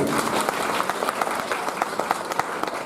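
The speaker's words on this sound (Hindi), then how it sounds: "इन बच्चों के लिए मैं आपसे विशेष रूप से ताली बजाने का निवेदन करता हूँ" An audience at a community talent-recognition ceremony in Bundi applauds the children, a dense, continuous patter of many hands clapping at a moderate distance throughout.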